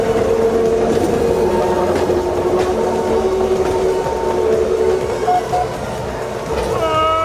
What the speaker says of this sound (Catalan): El tren groc de la Cerdanya, típic.